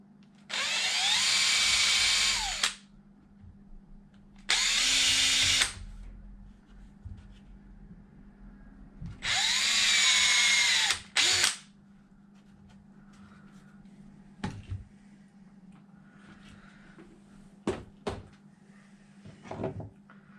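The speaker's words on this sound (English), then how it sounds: "where I needed to drill" A power drill whirs in three bursts of a few seconds each, drilling marked holes in parts for a Losi Super Baja Rey 2.0 RC truck spare tire mount, separated by pauses, followed by a few sharp knocks and clicks in a quiet room.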